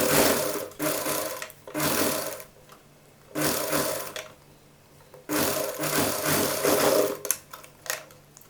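Sewing machine stitching a children's Patiala dress, running in bursts of steady rapid whirring chatter that stop and restart, with quiet gaps between runs, close up and loud, no talking.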